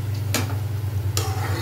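Spoon stirring cluster beans with peanut powder in a pan, two brief scraping strokes over a steady low hum, close and clear.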